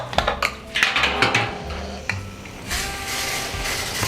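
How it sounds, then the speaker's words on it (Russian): Oil added to a hot frying pan for two ribeye steaks in a home kitchen: a few clinks and scrapes of metal, then a steady soft hiss and sizzle, close and fairly quiet. "Это мы добавляем сейчас масло"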